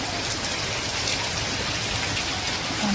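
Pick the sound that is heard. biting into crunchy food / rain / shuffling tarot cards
rain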